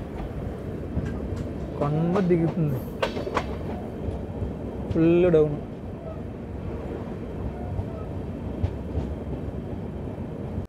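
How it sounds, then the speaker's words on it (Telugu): Kakinada Port–Bhavnagar superfast express running downhill, a steady rumble of wheels and carriage noise throughout, with someone talking over it in a couple of bursts. "మన ట్రైన్ కొండ దిగుతుంది"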